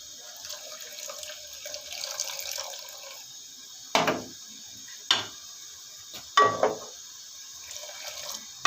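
Kashmiri kahwa green tea poured into milk, heard as a few short splashy pours separated by pauses, close and fairly quiet over faint background hiss, with no speech.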